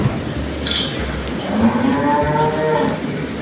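Cattle at a farm-style cattle market for Qurbani give a loud, close moo that rises into a long, drawn-out call, with the low murmur of the crowded herd behind it.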